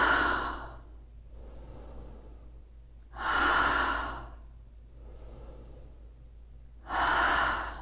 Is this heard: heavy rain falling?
no